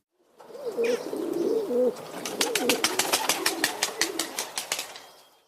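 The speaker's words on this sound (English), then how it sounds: "The answer is a pigeon, or better still, a pigeon cooing." A pigeon coos in low, throaty rolling calls, close by, followed by a rapid series of fluttering wingbeats.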